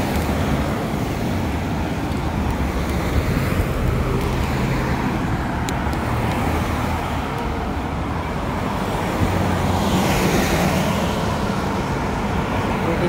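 Road traffic near North Fremantle train station in Australia, with vehicles passing by in a continuous broadband roar that swells and fades over several seconds, no voices.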